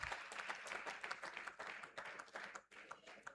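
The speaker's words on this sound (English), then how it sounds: "Can we give him a round of applause?" A crowd at a university memorial lecture applauds the Vice Chancellor of Nnamdi Azikiwe University, producing lively, uneven clapping that swells and dips in bursts over a few seconds, fairly close and dense.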